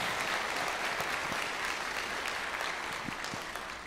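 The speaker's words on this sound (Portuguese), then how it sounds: "Aplauda a Deus pelo que você já vai ouvir" Continuous applause from a large church congregation, dense and steady clapping that fills the space throughout.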